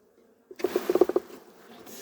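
A beekeeper shakes honeybees off a hive frame while combining weak colonies: a quick, close run of about six soft, rhythmic thumps and taps, then faint background hum, with no talking.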